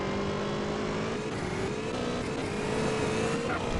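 A car in GTA San Andreas drives at speed, its engine holding a steady mid-pitched drone with slowly shifting tones and constant road roar throughout.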